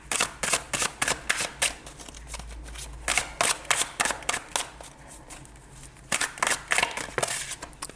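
Cards for a tarot-style reading are shuffled in quick repeated riffles and snaps, a steady rhythm of sharp papery bursts close to the microphone with a short lull in the middle; no talking.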